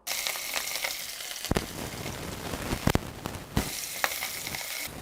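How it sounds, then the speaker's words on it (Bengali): Pieces of rohu fish coated in turmeric, chili, coriander powder and salt fry in hot oil with a steady, close crackling sizzle, broken by a few sharp pops and spits throughout. "তো প্রথম ব্যাচে আমি 5 পিস ভেজে নিব, পরবর্তী ব্যাচে আমি বাকি মাছগুলো ভেজে নিব।"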